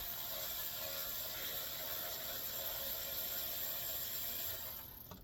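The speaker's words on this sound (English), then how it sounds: "The Milwaukee didn't like that bolt. It said it's too tight." A Milwaukee power tool strains to loosen a tight bolt on a truck, holding a steady loud whirring drone with a constant high whine for several seconds before it tapers off near the end.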